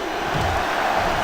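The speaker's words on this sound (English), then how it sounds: "the crowd is crazy today" A wrestling crowd at a live event roars and cheers loudly in a steady, sustained wash of voices.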